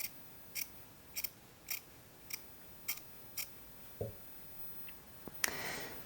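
Scissors trim the bias binding of a blouse lengthwise, giving a series of crisp, evenly spaced snips, close and fairly quiet. A few softer handling noises and a rustle close the clip.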